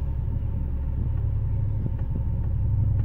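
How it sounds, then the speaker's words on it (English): Car engine during a driving lesson, heard from inside the vehicle as a loud, steady low rumble with a faint idle hum and no clear rev peaks, no talking. "Ease off the clutch and onto the accelerator."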